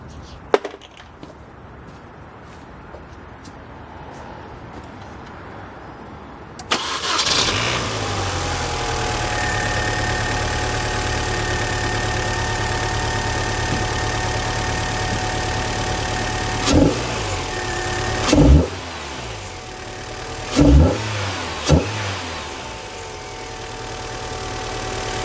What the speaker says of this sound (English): We're going to give her a fire up just to show you guys everything is good.